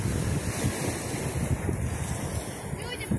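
Waves break on the Azov Sea shore at a beach recreation base on the Kirillovka spit, a loud continuous surf roar with heavy wind buffeting the microphone throughout.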